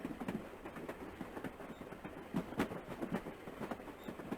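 A train rolls along in the Battle Angel Alita video game, Gunnm: Kasei no Kioku, with a steady low rumble and scattered faint clicks at moderate level.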